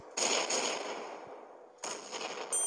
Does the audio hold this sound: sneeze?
no